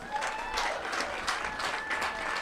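A crowd applauds senior players at a high school baseball game, a steady burst of moderately close clapping that holds for the whole moment.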